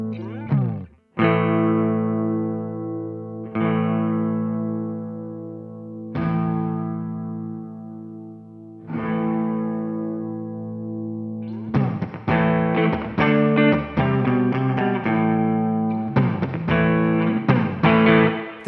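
Electric guitar through a DemonFX reverb and delay workstation pedal, with the reverb blend moving from fully dry to fully wet: four sustained strummed chords ring out, then a busier run of picked chords follows, the tail growing longer and more washed-out.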